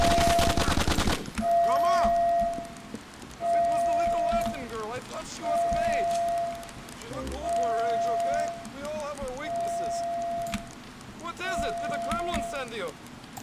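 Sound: gunfire in video game GTA: The Ballad of Gay Tony

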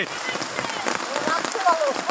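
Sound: rain

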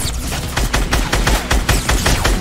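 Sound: gunfire in the video game Fortnite

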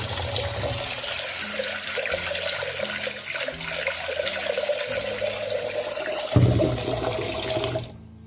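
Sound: running tap water washing lentils

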